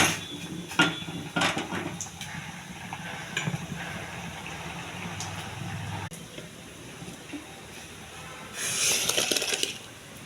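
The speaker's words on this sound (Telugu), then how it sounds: "మామిడికాయ వేసానండి పప్పులో." Cooked raw mango tipped into dal in a metal pot, with clattering pot and utensil knocks, a wet splash and stirring scrapes, ending in a brighter burst of sizzle or pouring near the end.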